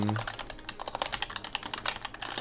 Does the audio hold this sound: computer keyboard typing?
yes